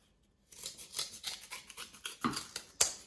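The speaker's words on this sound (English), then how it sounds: "So I'm going to go ahead and cut this out with my scissors." Scissors snip through paper while cutting out a pattern for a paper sculpture flower, a quick series of crisp close cuts with a couple of sharper snaps near the end.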